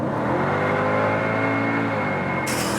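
A 2006 Mercedes C55 AMG S203 estate with its V8 pulls hard from 100 km/h, a steady loud engine roar with rising harmonics building continuously, close and alone with no talking.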